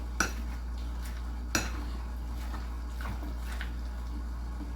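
Seafood cake mixture for Louisiana seafood cakes being stirred in a bowl, with a couple of sharp utensil clinks against the bowl over soft, steady scraping and mixing, close and fairly quiet, no talking.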